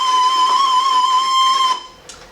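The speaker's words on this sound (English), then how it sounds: "So all I've now done is loaded up an electronic warfare, electronic attack jamming signal." Simulated electronic warfare jamming signal over a Calytrix Comm Net radio network: a loud steady electronic tone with harmonics, warbling slightly, cutting off abruptly near the end followed by a brief burst of static.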